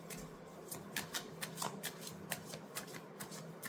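A new deck of tarot cards is shuffled by hand, giving a quick series of crisp, papery snaps and flicks at an uneven rhythm, close and fairly quiet, with no talk.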